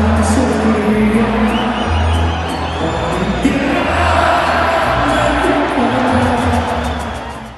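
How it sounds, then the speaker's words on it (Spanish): Mexican fight crowd in a Las Vegas arena for Canelo Álvarez, a loud dense roar of cheering and whooping that rises and swells, then fades at the end. "La mayoría de las gradas lo celebraba con gran entusiasmo."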